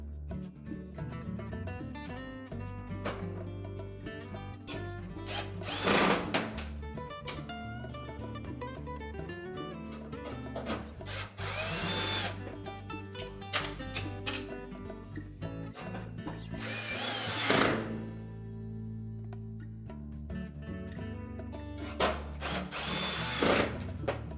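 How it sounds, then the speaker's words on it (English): Power drill driving screws into the back panel of a Whirlpool range, bursts of whirring repeating every few seconds over a steady low hum, fairly close and moderately loud. "we can go ahead and put all the rest of the screws in"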